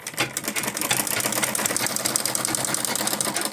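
Sewing machine running steadily while top stitching the handle of a fabric shopping bag, a continuous close whirring motor and needle clatter lasting throughout with no talk.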